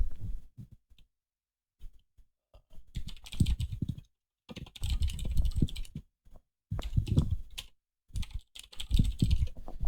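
Typing on a computer keyboard, close and quiet, in several bursts of rapid key clicks separated by short pauses.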